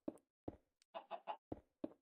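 Chickens in the Minecraft video game cluck in a quick, quiet series of about eight short, close clucks with brief gaps between them and no talk over them.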